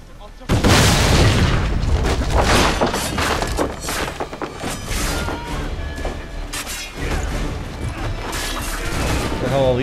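Loud, dense booming blasts and crashing debris from an exploding explosive storage in Assassin's Creed III, starting abruptly and rumbling on for several seconds with a voice talking over it.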